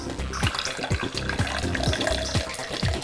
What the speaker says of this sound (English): I'm just going to top it up with a little bit of water.